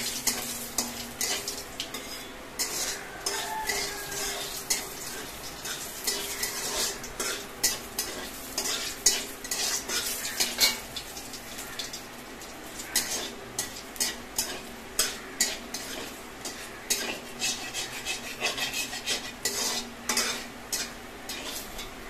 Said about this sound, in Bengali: তার আগে তেজপাতা একটু ভেজে নিচ্ছে।